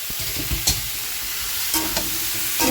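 Onions and pumpkin fry in a little oil with ghee in a pan, giving a steady soft sizzle broken by a few sharp scrapes and clinks of a stirring spoon, close and moderately loud with no talking.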